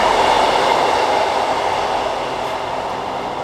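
A train passes close by on the railway near Tinsley and Brightside in Sheffield, a loud steady rolling roar with faint wheel clatter that fades slightly over a few seconds, heard alone without talk.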